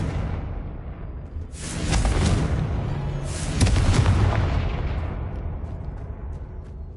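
Two heavy booming blasts from the Confringo explosion spell in Hogwarts Legacy, each a loud rumbling burst with a hissing tail, the second one deeper and longer.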